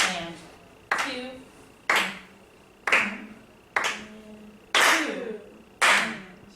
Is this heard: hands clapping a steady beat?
yes